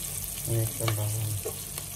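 Garlic frying in a pan for chicken adobo, a steady close sizzle with a few stirring scrapes and a low hum underneath, no talking.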